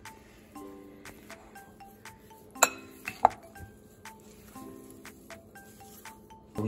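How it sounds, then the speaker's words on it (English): Shrimp taco ingredients being mixed with olive oil in a bowl: scattered clinks and taps of a utensil against the dish, with two sharper knocks midway over a quiet background. "Now mix it all together."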